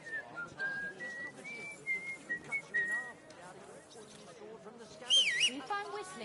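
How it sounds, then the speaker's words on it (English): Whistled tune in the medieval game Kingdom Come: Deliverance II, a series of short held pitched notes, followed by a brief warbling whistle, with spoken voices and soft ambient game sounds beneath. "Do you find whistling like that fun?"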